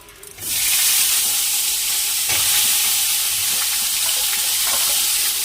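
Cauliflower and potato fry in a hot pan, a loud steady sizzle that starts abruptly and keeps going, with faint clinks of stirring through it and no voices.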